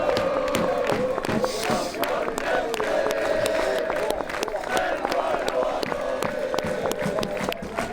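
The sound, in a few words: football players and fans applauding after a match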